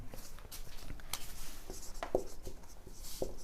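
Chalk or marker taps and strokes on a board during a coordination chemistry lecture, with short knocks and scratches at irregular intervals over steady room noise, close by and with no talking.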